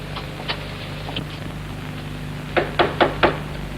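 Knocking on a hotel room door: a few faint taps early, then a clear run of four quick knocks near the end, over a steady low hum.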